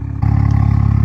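A BMW M235i with the N55 engine revs to about 3k RPM in sport mode, its tune mapped to remove exhaust burbles. The close, steady droning rumble jumps up in level and holds there.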